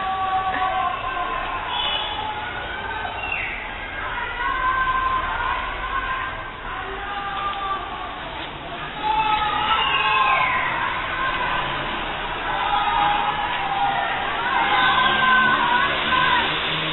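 Many distant voices shout and yell from rooftops in Iran, over one another, echoing across an open area, rising and falling in waves of noise.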